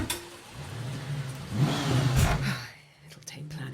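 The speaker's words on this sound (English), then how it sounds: "Computer, activate car door and start the engine." A car engine turns over and catches, then revs up to a loud, close roar before dropping away, with whispered voices around it.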